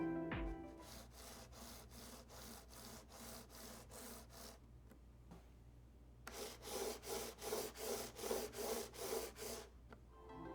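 Rhythmic back-and-forth rubbing of gaming mouse feet gliding across a mousepad, a Razer Viper compared with a Glorious Model O, first in one steady run of regular strokes, then a pause, then a louder second run.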